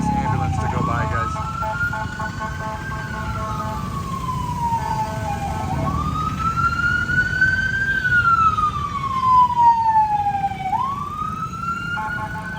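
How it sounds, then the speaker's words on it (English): Ambulance passing on a busy Manila street, its wailing siren rising and falling in long sweeps over steady traffic rumble, loud and close throughout. "Give it a second for this ambulance to go by, guys."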